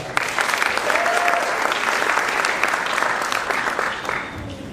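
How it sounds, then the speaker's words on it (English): A round of applause from the audience at an eco-challenge awards ceremony, steady close clapping that swells and then tapers off near the end, with no talking over it. "Please give them another round of applause."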